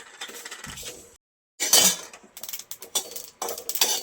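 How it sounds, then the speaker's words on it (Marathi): Coriander seeds, sesame and bay leaves dry-roast in a pan for a crab rassa, rattling and clinking close by in short bursts, with one brief silent break. "आता आपण त्याच्यामध्ये धने आणि तीळ आणि तमालपत्र भाजून घेणार आहोत"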